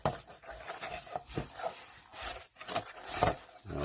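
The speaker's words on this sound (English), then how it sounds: "I'm having to rub pretty aggressively where I got that Vaseline on" A lint-free microfiber cloth is rubbed hard over a painted surface to remove petroleum jelly, giving close, uneven scrubbing strokes that swell and fade in quick bursts.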